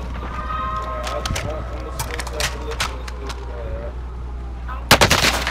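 Bursts of gunfire from a Call of Duty: Modern Warfare match, several sharp shots spread across the clip with a loud cluster near the end, over steady game ambience and a low hum.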